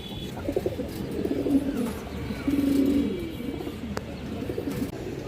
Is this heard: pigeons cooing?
yes